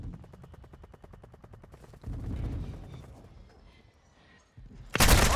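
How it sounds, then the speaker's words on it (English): Mortar strikes and gunfire in Call of Duty Modern Warfare 2 team deathmatch: rapid, rhythmic bursts of shots, then heavier rumbling impacts, ending with a loud, close explosion. "Hostile mortar strike in the area."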